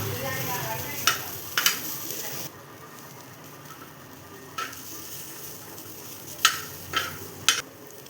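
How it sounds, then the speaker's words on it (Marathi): Onion fries in a pan for spicy mutton bhaji, with soft steady sizzling and a few sharp clinks of a spoon against the pan as it is stirred. "तर कांदासुद्धा छान असा भाजून घ्यायचा आहे."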